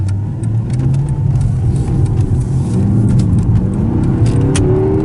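A 2008 Mercedes E63 AMG accelerating hard from inside the cabin, its engine note loud and steady with a droning low rumble that climbs in pitch through the rev range, with no talking.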